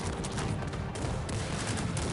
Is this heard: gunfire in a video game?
yes